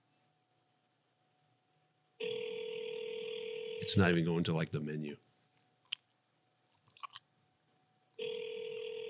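A phone call being placed: steady ringback tones play loudly in two stretches, broken by clicks and a brief stretch of talking in between.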